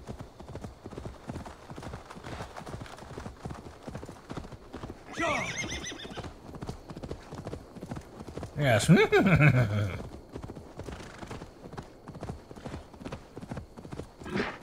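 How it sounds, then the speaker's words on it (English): A horse in Assassin's Creed Valhalla gallops with a fast, steady clip-clop of hooves throughout, broken twice by loud whinnies, while someone talks briefly over it. "Really no sense in not using the horse."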